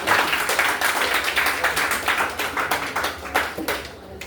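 A church congregation claps together in steady rhythmic applause, dense and moderately loud, continuing throughout before easing slightly at the end.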